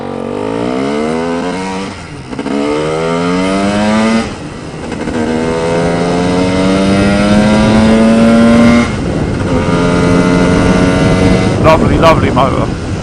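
A Lambretta scooter with an MMW KillerCase 260 Simonini engine and a BGM-style box exhaust with the muffler under the engine runs close and loud, its pitch rising and falling through steady revving.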